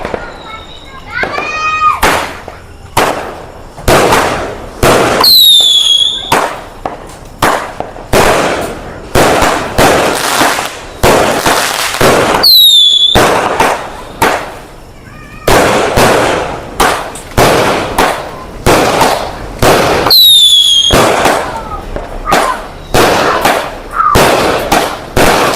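A 49-shot fireworks cake set off for Hari Raya: repeated loud bursts and pops in an irregular rhythm, some whistling, with children shouting and talking throughout.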